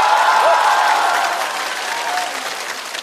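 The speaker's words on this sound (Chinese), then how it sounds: "掌声再次给周老板。" Applause from a stand-up comedy show audience, a dense, loud crowd clapping with some cheering, steady at first and easing slightly toward the end.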